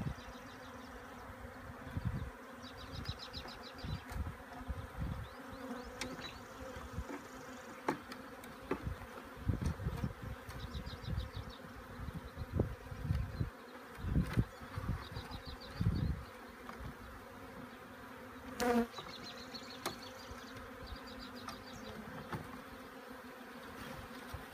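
Steady, dense buzzing of many honey bees close by in a hive box, a continuous hum with occasional louder passes and faint knocks underneath.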